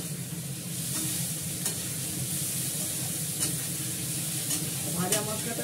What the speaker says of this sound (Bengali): গোটা মশলাগুলোকে ভেজে হালকা খালি কড়াতে ভেজে তারপর এটাকে গুঁড়ো করে রাখি